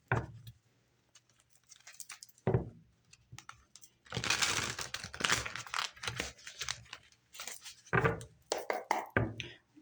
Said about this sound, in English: I'm going to do one more shuffle for you